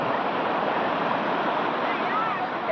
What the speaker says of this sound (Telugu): సముద్రంలో ఉన్న అలల తాకిడి, పోరుగాలులు అవే తప్ప మాకు ఇంకొక శబ్దం విననే పడలేదు.